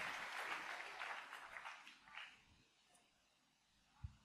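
An audience at a French-language church sermon breaks into applause, a faint crackle of many hands that fades out after a couple of seconds, followed by a single soft thump.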